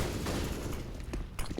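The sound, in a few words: gunfire in video game Counter-Strike CS:GO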